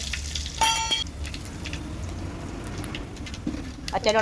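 Mustard seeds, grated coconut and small shallots fry in hot oil for a tempering, giving a steady crackling sizzle throughout with brief clinks of a utensil near the start and end.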